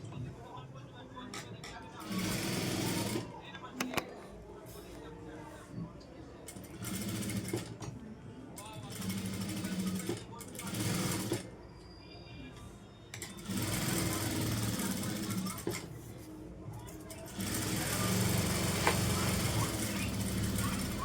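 Sewing machine sewing a round seam on a cross-cut blouse, bursts of motor whirring that stop and start repeatedly while someone talks between and over them.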